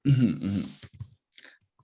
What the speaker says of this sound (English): Are you typing, Naomi?